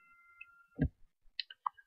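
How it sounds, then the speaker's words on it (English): Sparse keystrokes on a computer keyboard, a few separate clicks and taps close by with a faint tone beforehand, quiet and unhurried. "you can type as I'm typing here"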